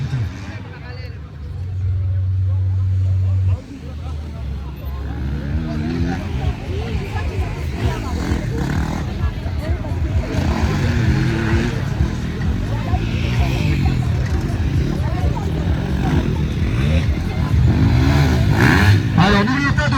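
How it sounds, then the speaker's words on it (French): Several 125cc E1 enduro motorcycles race a parallel slalom, their engines revving and passing in layered buzzing bursts at mid distance, mixed with a crowd babble and a loudspeaker announcer talking throughout. "On est dans les catégories E1, c'est-à-dire les motos 125 cm3"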